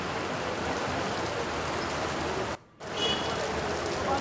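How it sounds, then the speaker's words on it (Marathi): Heavy monsoon rain pours steadily in Virar, a dense, even hiss that fills the scene at moderate level, briefly cutting out for a moment before resuming just as strongly. "सकाळपासूनच पावसाने वसई विरार शहरामध्ये धुवाधूर पडण्यास सुरुवात केलेली आहे"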